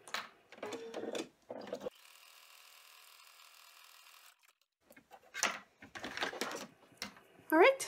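An embroidery machine runs a single stitching line across an in-the-hoop phone pouch, a steady mechanical whir lasting a couple of seconds between bursts of nearby talking.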